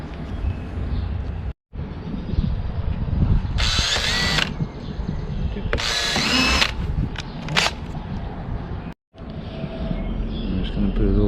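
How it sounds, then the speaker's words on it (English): A power drill bores holes into a kayak hull for pad eyes, with two loud whirring bursts close by, short trailing spins and a brief pause between them, all over a background hum. "Drill those."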